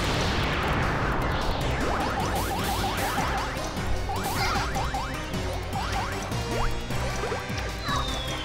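Bombs go off in the video game Bubble Bobble 4 Friends, with a whooshing burst at the start followed by rapid trains of popping, bubbling game effects over a steady soundtrack.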